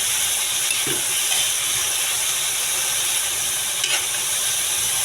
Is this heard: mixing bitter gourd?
yes